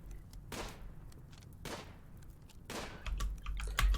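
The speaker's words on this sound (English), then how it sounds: "I can shoot that squirrel" Gunshots at a squirrel in Rimworld, three spaced sharp shots with quick decays, followed by a cluster of louder thumping reports at the end.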